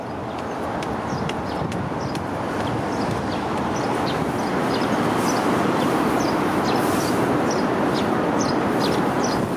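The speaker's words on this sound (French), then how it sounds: "Je sais pas si vous entendez les petits oiseaux." Small birds chirp on a Tokyo street in the Nagatachō and Akasaka area. Short, high tweets repeat throughout over a dense, steady wash of city noise.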